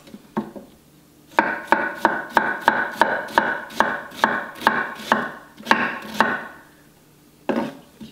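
A knife cuts through cabbage on a board for sauerkraut, a run of about a dozen crisp, evenly spaced thuds with short pauses at the start and end.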